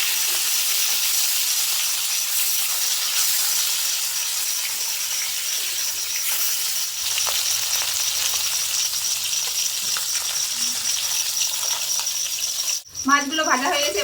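Small mixed river fish fry in hot oil with potato, a continuous hissing sizzle held fairly steady and close, ending with a sharp clatter near the end.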